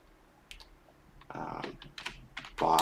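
Bursts of typing on a computer keyboard, quick clusters of key clicks that grow denser and louder toward the end, close up with no talk.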